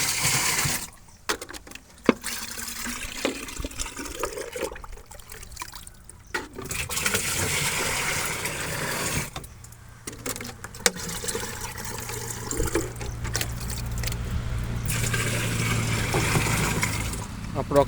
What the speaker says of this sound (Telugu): అవతల 10 లీటర్ల నీళ్ళు దీంట్లో పోసుకోవాలి.